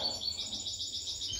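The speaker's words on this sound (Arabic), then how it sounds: "شوف اجمل طائر في الطبيعه هو الحسون" A young mutation goldfinch chirps in a rapid, high twittering series of short notes, close and clear over a faint background hum.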